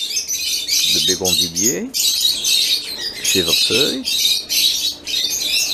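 Pet birds squawk and chirp almost continuously at high pitch, while someone speaks French in short phrases over them.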